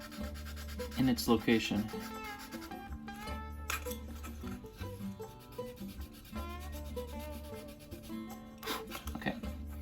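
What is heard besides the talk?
sandpaper scuffing rocket body tubing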